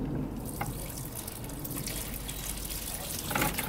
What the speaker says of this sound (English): And just going to water that in.